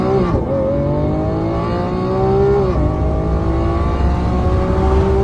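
A car launches hard with launch control, its engine note climbing steeply through gear changes, loud and close with a brief dip between shifts before surging on.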